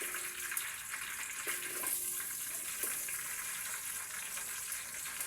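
Onions sizzling in hot oil for onion pulagam, added after bay leaf, cardamom and cloves: a steady, moderately loud broadband hiss with a few faint clinks, no voices.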